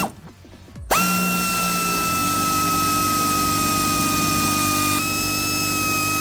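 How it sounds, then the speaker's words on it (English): A power tool backs out 13mm bolts from the rear fender of a Jeep TJ, spinning up after a quiet second into a steady, loud whine that holds to the end with a small pitch shift partway through. "Let's take out two of those bolts now."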